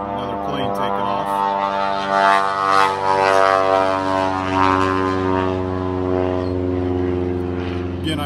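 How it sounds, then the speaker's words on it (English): A nearby airplane takes off, giving a loud, steady engine drone that swells slightly and holds throughout, with no speech. "another plane taking off"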